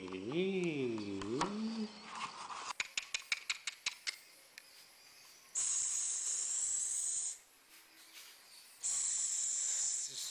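A pressure cooker in a home kitchen gives off a warbling whistle, then a quick run of sharp clicks, followed by two long, loud bursts of high, steady steam hiss separated by a short quieter gap.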